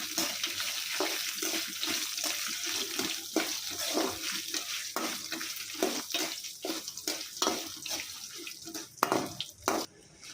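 Cumin seeds and dried red chillies sauté in a hot pan, giving a steady close sizzle with scattered crackles and pops that grow more frequent near the end.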